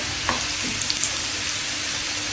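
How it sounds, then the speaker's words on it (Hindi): Onions sizzling gently in hot oil in a pan with cumin, a steady soft frying hiss with a few faint stirring clicks. "प्याज हमारा थोड़ा सा फ्राई हो रहा है"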